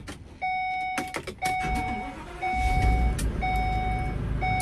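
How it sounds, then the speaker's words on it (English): Inside a moving U-Haul truck, a repeating electronic beep chimes over engine and road rumble, with a few clicks and knocks nearby. "I'm driving the U-Haul"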